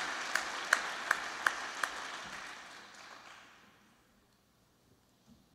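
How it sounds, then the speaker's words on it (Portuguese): Thin, sparse applause from a church congregation during a Catholic homily: a handful of sharp, distinct claps over a soft patter that quickly fades to near silence within a few seconds. "Que palmas mais michuruca e miserável foi essa?"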